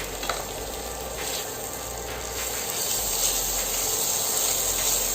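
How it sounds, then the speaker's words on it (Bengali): About a spoonful of ginger garlic paste fries in a pan for a bottle gourd curry, giving a soft, continuous sizzle and hiss with faint clicking stirring sounds close by; no speech. "আমি আদা রসুনটা একটু 2 মিনিট কষায় নিব, কাঁচা গন্ধটা চলে যাওয়া পর্যন্ত"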